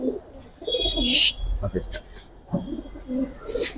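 Giribaz and coloured pigeons coo in low, broken bursts close by, with sharp chirps and flutters mixed in and people talking intermittently.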